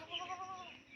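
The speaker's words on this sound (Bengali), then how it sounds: "দেশি ছাগল তার উপরে হালকা ক্রস" A native goat, lightly crossbred, lets out a single short bleat lasting about a second, quiet and close with no talking.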